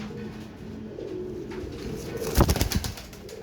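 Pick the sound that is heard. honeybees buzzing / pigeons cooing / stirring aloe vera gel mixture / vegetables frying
pigeons cooing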